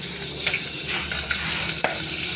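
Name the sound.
sautéing crushed garlic and sliced onion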